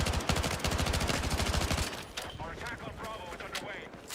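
Rapid automatic gunfire in the space game Star Citizen rattles in a fast, loud burst, then gives way to scattered shots, clanks and mechanical noises, with voices talking over the action.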